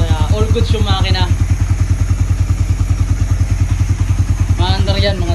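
A restored, fire-damaged Raider FI motorcycle engine runs at a steady idle, its loud, even rhythmic pulses continuing throughout, while someone talks nearby at the start and end.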